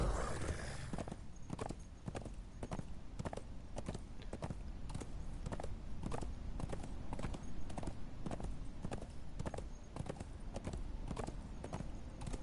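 Horse hooves clip-clop steadily in a video game, the rider running into a wall and getting the horse stuck. Dense, evenly spaced hoof strikes sound throughout, loud and close, with no talk.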